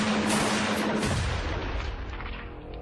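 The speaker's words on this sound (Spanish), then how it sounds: "En venganza, recibió 4 disparos en la espalda." Gunshots in a mafia revenge shooting, heard as a dense, loud burst of booming fire that fills the clip and slowly fades, with no talk.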